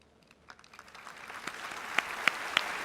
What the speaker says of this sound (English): A huge round of applause, ladies and gentlemen, for them.